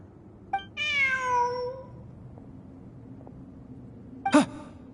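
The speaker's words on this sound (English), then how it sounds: "Look, a cat." A cat in the video game Genshin Impact gives a clear, drawn-out meow, followed a few seconds later by a short, sharp second cry. Both are close and distinct, with no talking.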